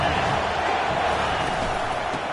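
A stadium crowd in an American college football video game, Clemson against Penn State, roars in a steady, dense wash of cheering on a big third down, loud and unbroken throughout.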